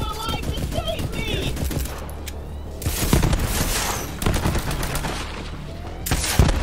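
Rapid gunfire in the shooter video game Borderlands 3, with dense bursts and overlapping shots in a loud, continuous barrage amid game effects.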